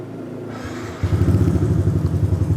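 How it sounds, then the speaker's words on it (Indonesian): A Yamaha NMAX scooter, customized in cafe racer style, starts up and settles into a steady, throaty idle through a custom exhaust, with a low rhythmic exhaust putter, loud and close. "Sekarang gue pengen dengerin suara dari si motor NMAX ini."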